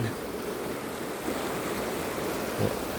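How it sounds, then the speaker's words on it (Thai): Water flows in past a flood wall at Khlong Khoi Phai Luang in Taphan Hin, Phichit, a steady broadband rushing that holds evenly throughout, with some wind noise in the mix. "ตรงนี้ยังมีน้ำไหลเข้าอยู่นะ"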